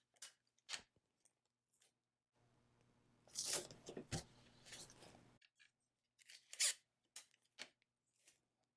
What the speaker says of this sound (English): I want to put a little bit of tape on that so that it doesn't accidentally get caught on my machine